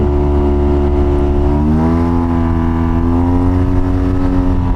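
A 2023 Yamaha TMAX 560 maxi-scooter with an upgraded aftermarket exhaust idles and revs steadily, its deep, loud drone rising slightly in pitch partway through without any voices.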